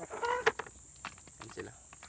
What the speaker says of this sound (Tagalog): Ayan yung mga manok ko.